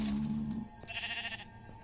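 Sheep bleating in Minecraft with the Valhelsia 2 modpack: a close, loud bleat opens the clip, and a second brighter, wavering bleat follows, with game ambience underneath.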